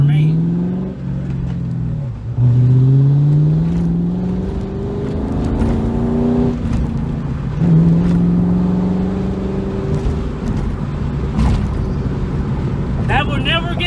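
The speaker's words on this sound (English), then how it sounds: "the 2-valve, you don't got a lot of power, but let me tell you, it is the best sounding engine that Ford has ever made" A Ford Mustang with a 2-valve V8 revs repeatedly, its deep exhaust note rising and falling through several throttle blips close by, with a steady rumbling idle between pulls and brief sounds near the end.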